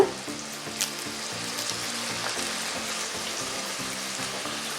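Desi chicken pieces fry in a pan before potatoes go in, giving a steady, moderately loud sizzle with crackling spatter and a few sharper pops throughout, with no talking.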